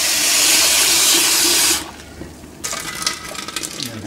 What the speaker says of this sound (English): Just going to drain and rinse these pinto beans.